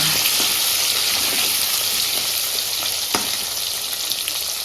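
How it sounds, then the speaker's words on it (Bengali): Vegetables with turmeric frying steadily in a pan, new potatoes among them, giving a continuous close hiss and crackle with a faint stir or clink around the middle and no talking. "একটু হলুদ দিয়ে ভাজবো ভালো করে ভাজবো লাল লাল করে"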